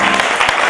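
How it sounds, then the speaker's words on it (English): Brief burst of dense applause from a church audience for the choir and musicians, loud and close with no voices above it. "Please, let's give them a big round of applause."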